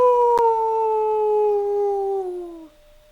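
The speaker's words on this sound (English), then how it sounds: "The howling brings on a headache." Howling in the visual novel game Tsukihime: A Piece of Blue Glass Moon, a single long, loud, close wail held steady and slowly sliding down in pitch before fading out, heard alone.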